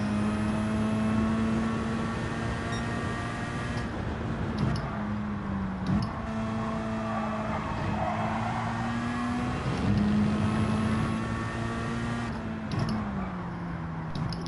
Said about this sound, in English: Going to need to rev it out a bit more now